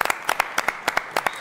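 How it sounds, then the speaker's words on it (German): A small audience at a talent show livestream claps in loose, quick rhythm, with distinct individual hand claps rather than a dense roar, at moderate volume. "Nochmal einen Applaus."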